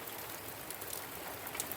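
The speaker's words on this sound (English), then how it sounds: "suddenly the heavens opened up" Heavy rain falling in Portugal, with the nearby mountains in view, makes a steady, dense hiss of drops drumming on surfaces close by, constant throughout with no voices.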